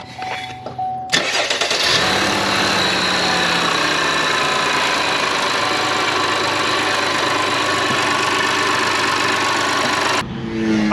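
GMC Acadia 3.6 V6, freshly fitted with a new high-pressure fuel pump, cranks and catches, then settles into a steady, loud idle that runs unbroken for about eight seconds before cutting off.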